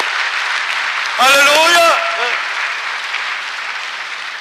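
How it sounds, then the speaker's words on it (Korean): A church congregation applauds during a Sunday service at a Presbyterian church, a soft continuous patter of clapping beneath a preacher's brief exclamation in Korean, then fading on in the background. "격려하고 박수 한번 하십시다"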